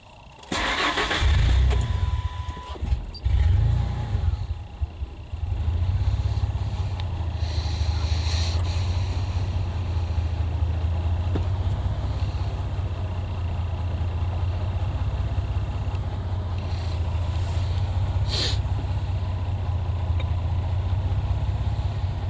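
A car engine cranks briefly, catches and settles into a steady, close idle that holds for the rest of the stretch, recorded alone without talk on a vehicle logging an idle air control valve circuit fault.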